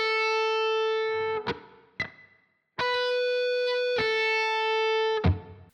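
Distorted electric guitar rings out in sustained notes with quick pull-offs between them, each phrase ending in a clipped pick attack, played solo and up close.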